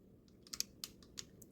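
A hydraulic lifter on an L48 small block Chevy engine clicks while being adjusted, giving a few faint, sharp irregular ticks over a quiet background hum.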